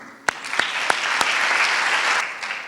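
An audience bursts into applause for an industrial science and technology school director, sharp claps at first swelling into dense, continuous clapping that fills the room.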